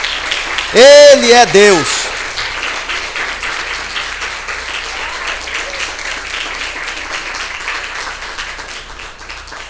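A church congregation applauds steadily during a worship service, the clapping sustained throughout while a voice calls out loudly near the start.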